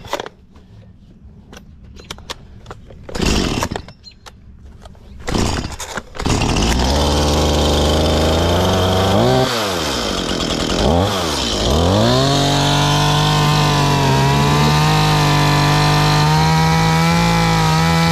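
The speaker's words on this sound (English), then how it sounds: "try to cut it out with the chainsaw" A chainsaw starts with a few short pulls, then roars loudly and steadily, its pitch rising and dipping as it bites into wood, running continuously to the end.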